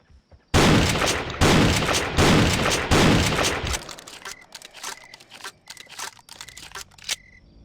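Gunfire in the video game Jurassic Park Revolution: four loud, sharp bursts follow one another closely, then a trail of fainter, scattered single shots.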